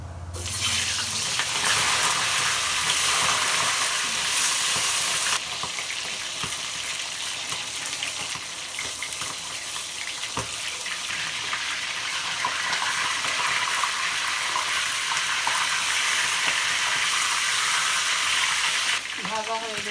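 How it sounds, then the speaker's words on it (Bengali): Pieces of roast chicken dropped into hot oil in a wok, a loud dense hiss and sizzle that runs throughout, with a brief clatter near the start and a change near the end. "তেল গরম হয়ে গেছে আমি এবার রোস্টগুলো দিয়ে দেবো"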